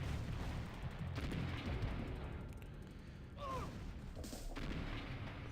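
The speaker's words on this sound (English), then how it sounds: "these artillery are actually going to help out" Artillery units firing in the real-time strategy game OpenRA, a steady wash of booming and rumbling blasts with scattered shot-like hits throughout, and a couple of brief whistling tones near the end.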